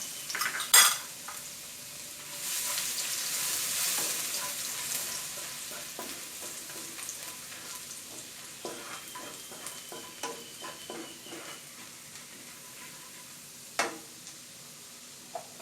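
Garlic sizzles in oil rendered from chicken skin in a pan, with a soft steady hiss after a burst when added, punctuated by scattered utensil clinks and scrapes, close and quiet with no talking.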